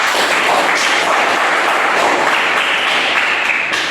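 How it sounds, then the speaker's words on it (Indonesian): Clapping from a class or teacher-training audience, a continuous bright patter of many hands, fairly loud and close, fading slightly toward the end with no voices over it. "tepuk tangan dulu buat Rita"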